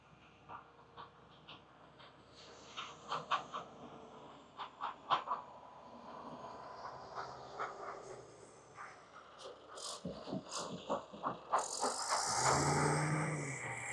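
Heavy road construction machinery compacting a 400-foot boulevard rumbles steadily outdoors with repeated clanks and thumps, and traffic noise adds to the mix, louder toward the end.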